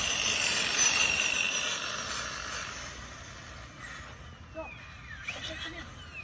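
An Axial SCX6 RC car with an 8S setup revs its electric motor at full throttle, a loud high whine that holds and then fades as the throttle eases, leaving faint clicks; no talking.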